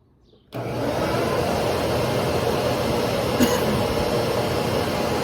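A bucket-style dust collector on a router station starts up abruptly and draws in sprinkled sawdust, a loud steady rushing suction roar that holds without change, with one faint tick partway through.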